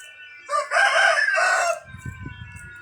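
A rooster crows once, loud and close, a long drawn-out call, followed by low chickens clucking softly.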